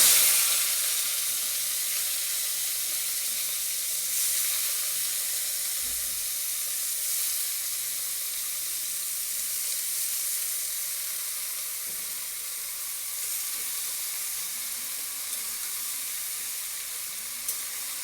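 Water lily stems frying in a pan, giving a continuous, even hiss of sizzling and steam, close and steady throughout, with a single faint knock partway and no voices.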